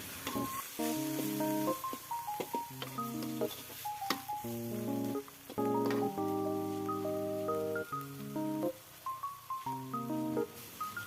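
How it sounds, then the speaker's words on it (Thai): Minced chicken stir-fried with long beans and red chili in a pan gives a steady close sizzle that runs throughout, partly under background music with sustained tones. "ผัดจนกว่าเนื้อไก่ บดหรือไก่สับของเราจะสุกเลยนะครับ"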